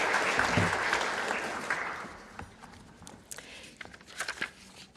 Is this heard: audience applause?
yes